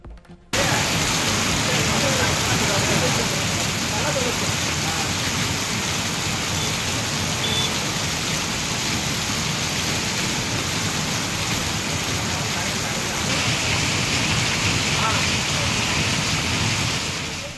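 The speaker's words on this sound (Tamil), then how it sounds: "சிவகங்கை மாவட்டத்தில் வெளுத்து வாங்கிய கனமழை." Heavy rain in Sivaganga district pours down in a steady, dense roar that starts abruptly and continues without pause, loud and close.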